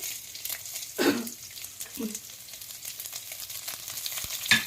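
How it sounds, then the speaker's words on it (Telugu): Four chillies fry in oil in a pan with a soft, continuous sizzle, broken by a few brief louder crackles and stirring sounds, close and fairly quiet. "ఇది కొంచెం వేగుతున్నాగానే గోల్డ్ కలర్ వచ్చేసినాయి చూసారా చిల్లీస్ అండి నాలుగు వేసుకున్నాను నేను"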